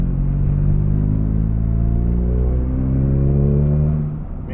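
A tuned Toyota GR Corolla with a turbocharged three-cylinder engine and aftermarket exhaust runs on a dyno. It gives a loud, continuous droning roar that climbs steadily in pitch toward redline, then drops off abruptly near the end.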